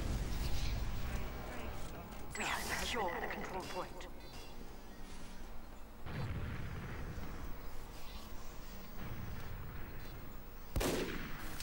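Sniper rifle shots in a competitive team shooter video game match, several sharp cracks spaced seconds apart amid steady game noise, with a commentator talking over them.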